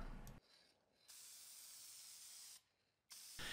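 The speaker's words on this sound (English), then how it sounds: "apply a lacquer finish to the push block" Lacquer finish is sprayed from a spray gun onto a wooden table saw push block in a workshop, heard as two long, steady close hisses with brief pauses between them.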